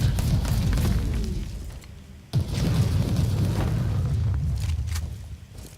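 A heavy weapon fires in the Warhammer 40k Inquisitor Martyr game, producing loud, continuous booming blasts that rumble without a break, with one sharp new burst partway through.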